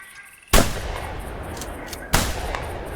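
Two sharp, loud shotgun blasts fired at ducks in theHunter Classic on a bayou, each with a sudden crack and a short decaying tail, spaced about a second and a half apart.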